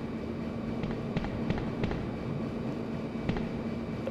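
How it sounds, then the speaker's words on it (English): A mine thrower fires in Resident Evil 3, giving a few sharp cracks and pops over a steady noisy game background. "Let's put the mine thrower on."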